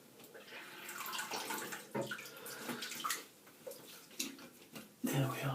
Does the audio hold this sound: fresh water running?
yes